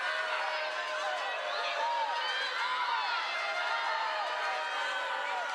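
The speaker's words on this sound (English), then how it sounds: "the crowd is starting to get into this game" Crowd at an Australian women's Legends Football League game between Queensland Brigade and New South Wales Surge, a steady roar of cheering with a commentator talking over it throughout.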